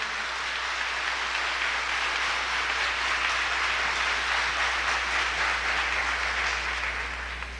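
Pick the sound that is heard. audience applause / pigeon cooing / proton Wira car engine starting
audience applause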